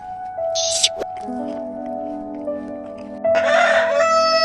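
A farm rooster crows twice, a short call early on and a longer, louder cock-a-doodle-doo near the end, with clucking and background noise between.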